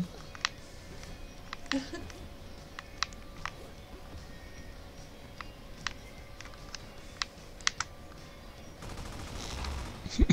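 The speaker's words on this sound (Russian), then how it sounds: "Пулемет какой-то." Machine gun fire in the Rad Rodgers video game, as sparse sharp shots popping over a steady hum, growing into a denser burst near the end.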